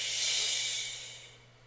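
A long exhaled breath pushed out as a steady sh sound, a single loud hissing breath-out that fades gradually over under two seconds, heard alone.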